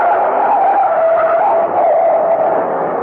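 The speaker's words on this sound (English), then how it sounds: "Farrar, look out! That truck!" A truck skids with a loud, sustained tire screech lasting the full three seconds, steady and close with no voices over it, in a radio mystery drama.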